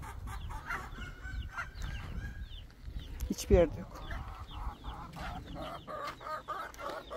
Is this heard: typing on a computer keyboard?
no